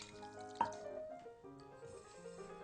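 Hot water poured into a bowl holding chicken soup base for a lemon soy sauce, a close, steady splashing trickle with a brief knock near the start, heard alone.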